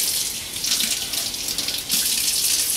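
Tap water runs steadily into a sink as a thermometer is washed while a yeast starter is made for home brewing, a loud close splashing stream with a slight shift partway through.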